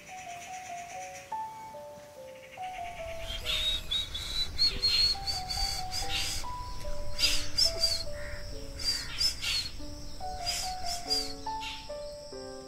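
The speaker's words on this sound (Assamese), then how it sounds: "ইয়াক ব্ৰেইন ফিভাৰ বাৰ্ড বুলি কোৱা হয়।" A common hawk-cuckoo, the brain fever bird, whistles a rising series of calls in a nature setting, with other birds and insects chirring steadily in the background.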